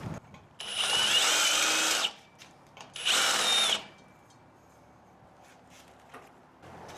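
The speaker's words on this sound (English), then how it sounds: "Deburring." A power drill deburring metal parts for a bike rack being converted into a kayak carrier whines loudly in two bursts of about one and a half seconds each, then quiet workshop background follows.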